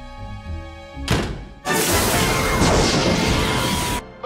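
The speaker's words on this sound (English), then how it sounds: "The frame is crashing to the ground, not quite to the mooring mass." The Hindenburg airship frame crashing to the ground near its mooring mast, a sudden loud smash that swells into a sustained roaring crash lasting a few seconds, following a brief low rumble, with no clear voices.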